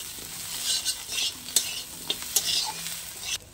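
Fried fish fritters stirred and sautéed in a pan of spices make a close, loud sizzle punctuated by repeated scraping stirs and clinks of a spatula, with no talking.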